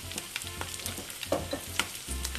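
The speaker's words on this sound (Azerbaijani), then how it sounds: "xırda-xırda doğranmış soğanı əlavə edirik və yenidən bir qədər qovururuq" Meat and finely chopped onion fry quietly in a pan, a soft crackling sizzle punctuated by scrapes and stirring clatter, close and low in level with no talk.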